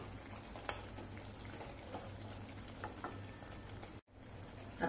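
Spinach and pea sabji frying in a pan, stirred with a few soft scrapes over a steady low sizzle, close and fairly quiet, with a brief dropout near the end.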